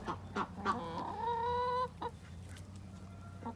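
Chickens on a small backyard farm cluck and squawk close by, with one drawn-out crowing call in the middle, then quieter scattered clucks over a steady low hum.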